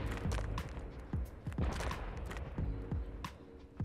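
Rapid bursts of gunfire in the Roblox game Fallen Survival crackle in uneven clusters, punchy and close, with no speech over them.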